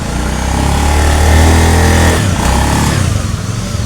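A loud Honda Beat ESP scooter engine revs up close, holding a high rumbling pitch before dropping back to a rough, sputtering idle; the engine roars but the scooter won't move.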